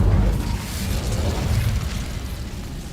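Incendio fire spell cast in Hogwarts Legacy: a sustained, roaring whoosh of flame with a heavy low rumble, loud and continuous for about three seconds before easing slightly.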